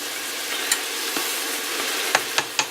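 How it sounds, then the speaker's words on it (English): Shiitake mushrooms seasoned with poultry seasoning sizzle steadily in a pan, with a few sharp scrapes and taps as they are stirred, close and fairly loud. "And I'm going to stir a little bit."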